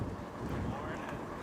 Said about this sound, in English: Gonna be beautifully warm today, but Nice. windy, very windy.